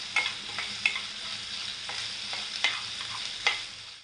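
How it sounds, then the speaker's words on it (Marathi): Onion and green chilli sauté in hot oil for okra stir-fry, a steady sizzle broken by a handful of sharp spatula scrapes and clicks spaced through the few seconds, close and fairly loud with no voices. "मिरची आणि कांदा तेलात व्यवस्थित परतून घ्यायचा आपल्याला"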